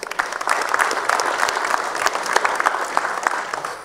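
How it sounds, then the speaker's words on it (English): An assembly audience claps steadily for a few seconds, a dense, moderately loud wash of hands from a crowded room with no voices standing out. "Let's give him a round of applause anyway"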